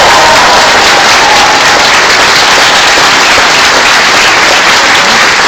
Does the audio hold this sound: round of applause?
yes